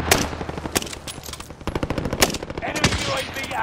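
Gunfire in a war video game, sharp rapid bursts of automatic weapon shots mixed with single cracks, some close and loud, others more distant, with faint voices underneath.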